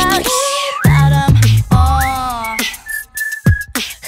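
Melodic human whistling in a cover song, a string of clear sliding and held tones broken by short gaps and quick rhythmic vocal hits, loud and close.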